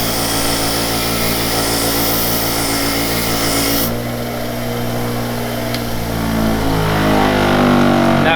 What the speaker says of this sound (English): wire wheel on our bench grinder.